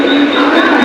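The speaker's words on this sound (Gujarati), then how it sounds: "ટ્રેન જાય છે ભાઈ" Train passing at night near Dadar station, a steady loud rumbling wash with a high metallic whine, constant throughout.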